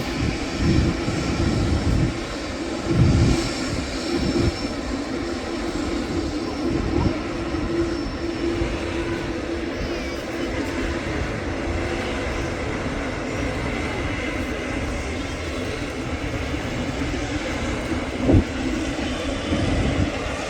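Etihad airliner at Manchester Airport, a steady loud jet engine roar with low rumble sustained throughout, heard at a distance without talk.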